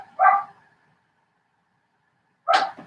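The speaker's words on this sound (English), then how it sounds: "You can hear the dog." A dog barks twice indoors, two short, sharp, fairly loud barks separated by about two seconds of silence, with no talking over them.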